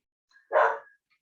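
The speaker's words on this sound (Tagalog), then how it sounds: "ang ingay ng aming aso" A single loud dog bark, close and sharp, rising abruptly and fading within half a second, with a faint yip just before and silence around it.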